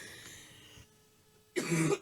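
One short, harsh cough bursts out close by after a brief quiet stretch.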